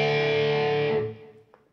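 An Entwistle EST100 electric guitar on its middle pickup with a distorted tone rings out in a single sustained chord that fades away after about a second.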